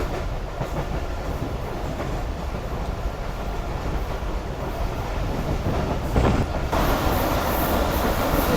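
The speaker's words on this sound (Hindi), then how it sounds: "तो ये ट्रेन हमारी इस वक्त स्किप कर रही है जंगशाही रेलवे स्टेशन को।" Rehman Baba Express rolling through Jungshahi station without stopping, a steady loud rumble of rail cars and wheels with a brief swell near the end, no voices.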